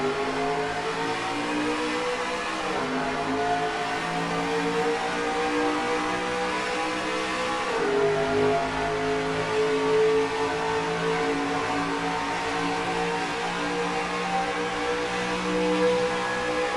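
Race trucks from NASCAR Racing 2003 roar off at the green flag on a Toronto Lakeshore track, a dense, steady engine drone with rising revs and shifting pitch throughout, loud and continuous with no talk.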